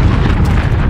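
A single heavy missile explosion from the video game Modern Warfare, a loud, close, rumbling boom that fills the whole short moment without any voice.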